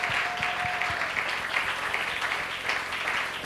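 A church congregation claps and cheers in praise, sustained applause from a crowd filling the room, with a few louder claps near the front.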